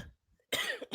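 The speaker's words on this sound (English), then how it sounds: "still trying to get rid of this last little bit of cough" A single person's cough while lingering over the last of a cold, one short burst near and moderately loud after a faint throat sound, then a brief trailing rasp.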